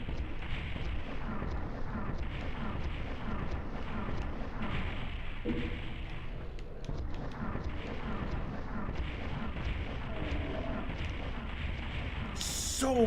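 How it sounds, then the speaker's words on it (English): Missiles exploding during the Heisenberg boss fight in a video game, a dense continuous barrage of booming blasts and rumbling impacts with a voice talking over it. "So many missiles!"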